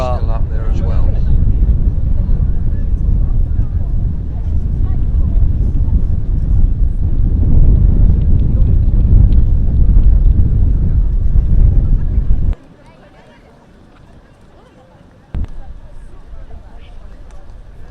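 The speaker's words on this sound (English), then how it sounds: "The wind continuing to push the trees around." Strong wind roars across an open field at a cross country race, a loud continuous rumble and buffeting that cuts out abruptly near the end, leaving quieter ambience.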